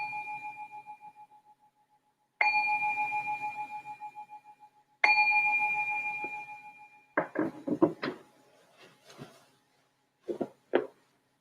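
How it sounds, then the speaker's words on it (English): A meditation bell is struck three times at a calm pace, each clear tone ringing out and slowly fading. A few soft knocks and shuffles follow in a quiet room. "I'm going to ring the bell to signal the start of our meditation."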